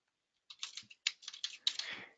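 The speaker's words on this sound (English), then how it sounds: "And I'm going to type in General Journal." Quick keystrokes on a computer keyboard in an otherwise quiet room, a close, crisp flurry of clicks in two short bursts lasting under two seconds.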